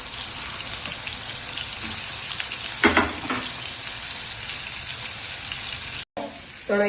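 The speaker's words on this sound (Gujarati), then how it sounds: "તેલ ગરમ થાય એટલે કારેલાને અંદર" Bitter gourds (karela) stuffed with filling fry in hot oil in a kadai, a steady loud sizzle throughout with brief stirring scrapes near the middle and a short break near the end.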